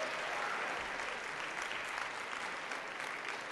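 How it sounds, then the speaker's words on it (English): A congregation in a chapel claps their hands together during an MLK Day service, continuous dense applause heard from within the crowd, steady and lively, somewhat distant in level. "Clap your hands, everybody."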